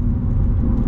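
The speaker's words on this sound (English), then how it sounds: "I launched it, I let the car shift to second for me, and then I went to go shift to third" BMW M2 Competition at a drag launch, a loud, close, low engine rumble holding steady for about a second with no gear change evident.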